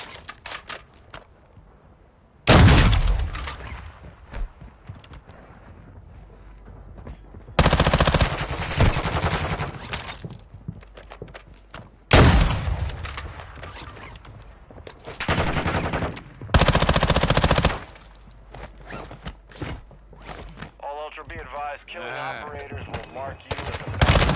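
Shotgun blasts in a video game shooter come as loud, close bursts of heavy gunfire in several separate volleys, separated by quieter gameplay noise and faint background sounds.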